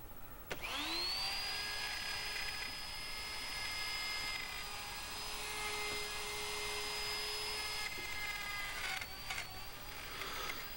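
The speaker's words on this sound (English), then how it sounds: "for an electric guitar, doing something like this, a router is the way to go" A wood router cutting pickup cavities into an electric guitar body runs as a loud, steady high whine for about nine seconds before spinning down, with no talk over it.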